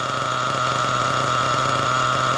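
A nitro RC car engine idles after carburetor tuning, giving a steady, loud, buzzing high-revving drone with a fast rattling pulse, close and continuous with no talk.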